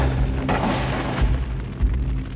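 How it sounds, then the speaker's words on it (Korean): Booming gunfire and explosions play as a documentary sound effect for a night attack on a feudal Japanese castle, giving a dense, loud rumble with several heavy thuds and no talking. "밖에서는 총소리가 들렸고 불꽃이 보였다"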